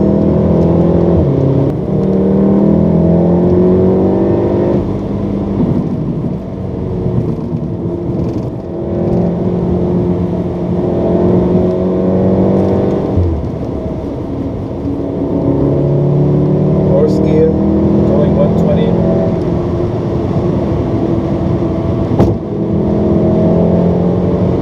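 Volkswagen Golf R MK7 hot hatch accelerating hard in 4th gear, the engine note rising in loud, sustained sweeps with brief dips between pulls and steady interior road rumble underneath.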